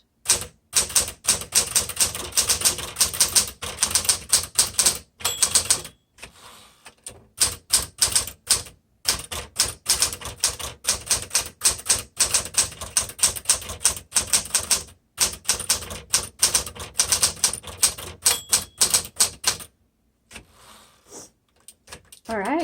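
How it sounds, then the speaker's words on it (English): Rapid bursts of keystrokes from a 1960s Smith Corona Classic 12 manual typewriter, clacking loud and close in uneven runs with brief pauses and a carriage return near the end. "Again, the Classic 12 is a nice typewriter"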